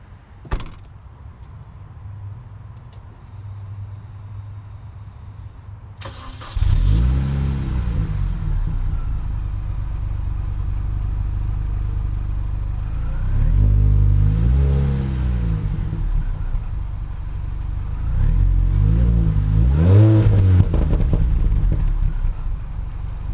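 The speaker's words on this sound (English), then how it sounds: "The stock exhaust that came with the Mini Cooper" A stock-exhaust 2006 Mini Cooper S starting with a click and quiet hum, then its engine catching and idling with a low rumble, rising in three distinct revs that swell and fall back, loud and close.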